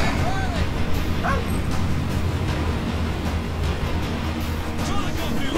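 Riley, a dog in the video game Call of Duty Ghosts, barks and yips several times over a noisy, busy game soundscape with rumbling background sound throughout.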